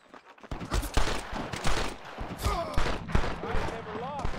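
Rapid gunfire from a Red Dead Redemption shootout, a string of sharp, close shots and thuds with voices shouting over the action.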